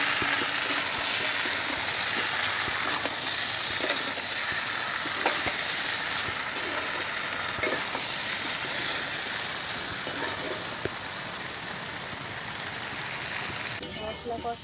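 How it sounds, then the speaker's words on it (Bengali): Potatoes with turmeric, tomato, green chilli and chilli powder stir-fry in a pan, a continuous close sizzle with scraping stirs, faint speech coming and going underneath. "মশলা কষা হয়ে গেছে"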